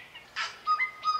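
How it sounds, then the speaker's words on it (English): A tui bird sings a few short phrases: breathy bursts mixed with clear whistled tones, brief and close. "This is the sound of a tui bird singing."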